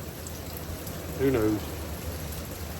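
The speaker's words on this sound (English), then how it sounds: "But it's raining" Steady rain patters over a cornfield under sunny skies, a continuous soft hiss with someone briefly speaking over it.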